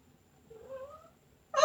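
A pet cat lets out a single short rising meow, close and fairly soft, in a quiet indoor room, followed by a brief louder sound at the very end.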